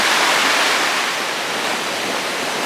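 A river rushing through the snowy Great Smoky Mountains, a steady, dense wash of flowing water close by, loud and unbroken with no voices.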